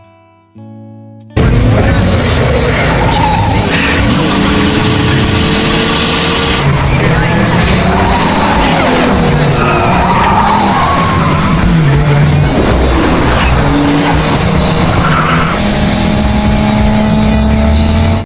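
Street race cars including a Mazda RX-8 roar loud and close in a continuous, dense wall of engine noise with revving and shifting pitch, mixed with crowd yelling, after a brief quiet start.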